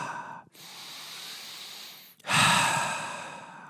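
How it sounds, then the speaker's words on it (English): During an active recovery workout, a person breathes close to the microphone: a long, steady exhale, a brief catch of breath, then a stronger, louder breath out, each breath airy and hissing. "Just breathing."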